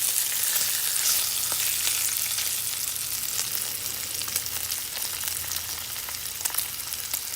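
Steady crackling sizzle of ham frying in a skillet, with faint scattered pops over a continuous hiss, close up and fairly quiet.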